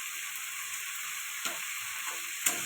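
Potato and taro frying in oil with a little turmeric in a kadai, a steady close sizzle that runs throughout, with a few soft clinks and stirs near the middle and the end.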